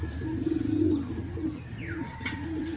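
A racing pigeon just arrived home from a long-distance derby coos in soft, rhythmic repeated phrases close by, over a quiet background hum with a faint chirp.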